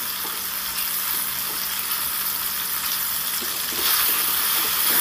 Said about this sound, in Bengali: দিয়ে এবার আদা কাঁচা লঙ্কার সাথে টমেটোটাকেও সুন্দর করে একটু ভেজে নেব।